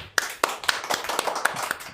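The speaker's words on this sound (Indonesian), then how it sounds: "Tepuk tangan dulu." A small group claps on cue in an indoor talk-show setting, sharp slaps in a quick, slightly uneven rhythm over about two seconds, close and moderately loud with no voices.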